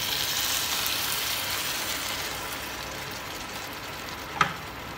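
Butter chicken with milk sizzles steadily in a pan while being stirred, a soft continuous frying hiss with one brief clink of the utensil near the end.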